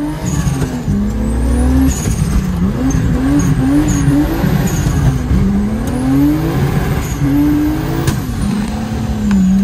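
A loud turbocharged BMW E36 engine revs over and over, its pitch climbing and falling in quick surges, with a thin high whine above.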